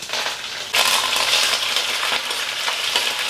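Mustard seeds, dried red chilies, urad dal, garlic, cumin and curry leaves temper in hot oil on low flame, giving a steady close sizzle and crackle with scattered popping seeds throughout.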